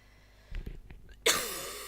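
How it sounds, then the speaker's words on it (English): A single person's cough, one harsh burst followed by a short breathy clearing, close to the microphone and otherwise quiet. "that wasn't really a cue to cough, but my body thought it was"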